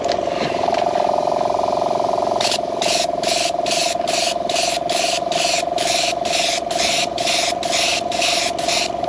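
Nozzles spray a fluid thicker than water during a test on a Ferrari 348 rebuild, giving a continuous hiss that turns into a rapid series of pulsed bursts. A steady mechanical drone runs underneath.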